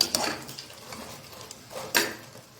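A spoon stirs black-eyed pea curry with onion and tomato in a pan, making two or three faint scraping, clinking strokes against the metal over a quiet background.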